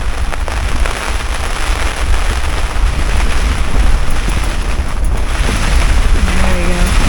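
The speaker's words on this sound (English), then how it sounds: "Kind of tame right now, but some gusts are just really intense." Strong wind roars and buffets the microphone in continuous loud gusts at an adventure camp in Greenland, with a faint voice near the end.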